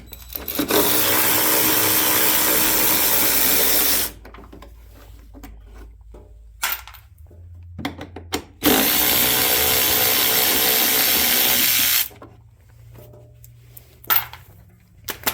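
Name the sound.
socket wrench removing lawn mower gas tank bolts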